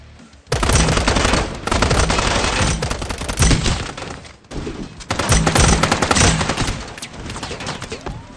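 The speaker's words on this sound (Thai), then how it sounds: "ทุกคนเลยยิงปืนยิงที แตกแรงจริงแรงจริง" Rapid automatic gunfire from the Strinova video game, loud and dense, in two long sustained bursts separated by a short pause, with sharp repeated shots throughout.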